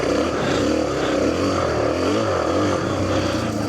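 A Suzuki DR-Z250 dirt bike engine drones steadily and loudly while riding, with the pitch rising and falling slightly as the throttle varies, along with wind buffeting and no talking.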